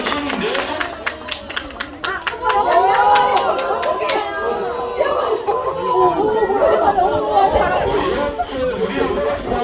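Rapid, close crowd clapping at a sheepdog herding performance, a quick burst of claps that gives way to lively audience chatter and people talking.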